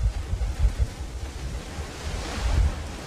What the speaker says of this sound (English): The wind is throwing it off slightly because it is extremely windy today.